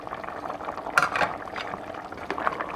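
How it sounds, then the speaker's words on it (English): Green beans stirred into a simmering vegetable beef stew in a pot, a soft, close wet sloshing with a couple of brief scraping swirls over a low bubbling. "and I am going to stir"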